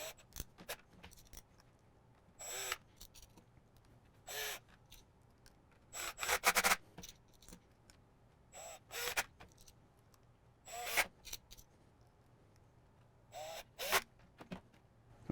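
Small screws being driven back into the main circuit board of a Fanatec McLaren GT3 USB adapter, heard as a series of short, close scraping and ratcheting bursts separated by quiet gaps.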